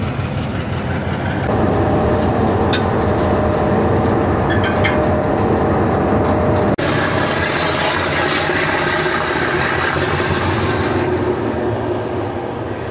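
A locomotive shunting at a junction station as it detaches from its coaches to change direction, giving a steady loud rumble of rail cars with a few high wheel squeals and a sudden clank, all without any talk.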